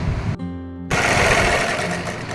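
A sewing machine runs steadily while a dress is stitched at home, a loud continuous mechanical whir that breaks off briefly into a low hum before resuming at full speed.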